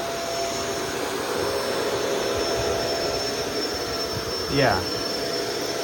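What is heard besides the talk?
Shark Rotator DuoClean Powered Lift Away vacuum running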